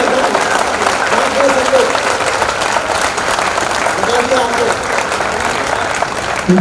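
An audience at a Hindi poetry recital bursts into applause, a loud, continuous wash of clapping from a crowd with a voice briefly audible amid it.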